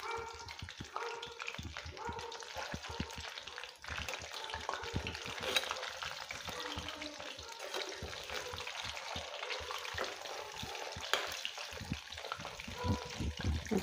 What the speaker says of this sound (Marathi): 1 मिनिटभर न हलवता या साईडने तळून घेऊ